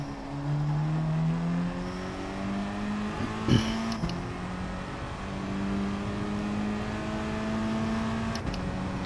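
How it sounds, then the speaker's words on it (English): Race car engine during FIA manufacturer practice, steady high-pitched revving with slowly shifting tones that hold throughout, fairly loud, with a couple of brief knocks partway through. "We also need to rev it out more than what we're doing, just to get rid of the fuel."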